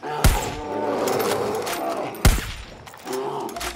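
Two heavy sniper rifle shots in the video game Far Cry New Dawn, each a sharp booming crack about two seconds apart, rising over a continuous bed of game ambience and background sound.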